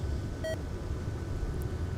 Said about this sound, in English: apologies for the beeping that might be annoying to some of you.